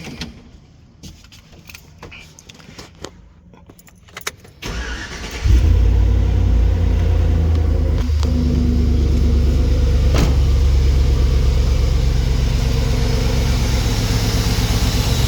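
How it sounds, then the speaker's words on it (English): A vehicle fitted with a Brand X BXEXT1 external voltage regulator cranks briefly and starts after about five seconds, then settles into a loud, steady, close idle. "now I'm gonna go ahead and start this vehicle."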